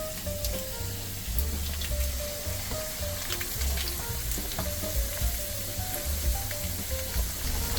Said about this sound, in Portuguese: E vamos botar o peixinho.